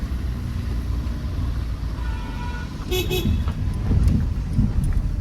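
A car climbs steeply uphill in first gear on a mountain road, its engine holding a steady, loud, strained drone with a brief horn toot partway through.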